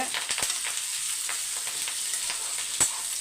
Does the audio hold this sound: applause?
no